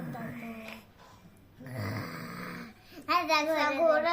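A voice imitates a sleeping wolf snoring in a Marathi children's story, producing drawn-out snoring sounds in two bursts between stretches of storytelling speech.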